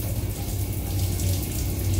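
Water pours steadily from a newly installed emergency shower water heater, a continuous close hiss of flowing water with no talking.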